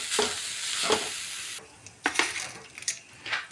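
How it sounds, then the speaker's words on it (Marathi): Grated coconut is dry-roasted and stirred in a pan until its moisture cooks off, producing a soft sizzle with repeated scraping strokes and a few light metallic clinks of the spatula, close and fairly quiet. "नारळ अगदी थोडा वेळ भाजायचा आहे"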